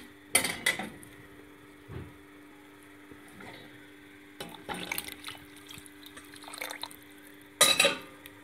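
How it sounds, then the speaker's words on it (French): Boiling water splashes and trickles into a metal pot in uneven bursts while cooking Tunisian mloukhia, with clinks of cookware and a steady background hum. "j'ajoute encore de l'eau bouillante"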